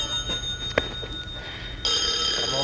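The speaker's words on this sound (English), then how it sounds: "Mr. Ringmaster, will somebody please answer the phone?" A telephone rings in the background on a children's circus TV show, with a steady electronic tone and a sharper burst of ringing near the end.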